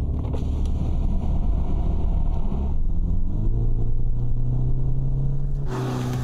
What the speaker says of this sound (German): Machen wir mal einen Soundcheck und schauen, wie der Vierzylinder so klingt.